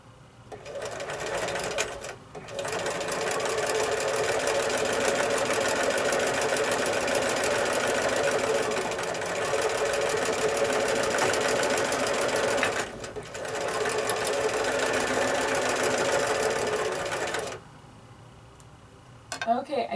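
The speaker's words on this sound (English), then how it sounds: "So take this to the sewing machine and stitch it the exact same way from corner to this point." A sewing machine stitches quilt block pieces for a sawtooth star quilt, running in long steady bursts of close rapid whirring with brief pauses between seams, loud and near.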